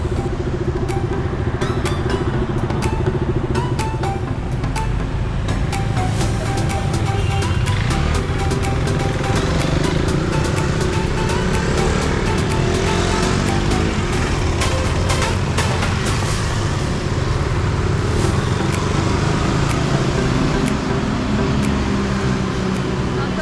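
A group of motorcycles (KTM, Dominar, MT, CBR 250) rides together, giving a loud, steady, continuous engine drone that stays close throughout with no pauses.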